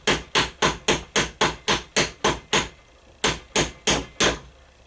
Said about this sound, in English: I just put a 13/16 socket in here and I'm just hammering it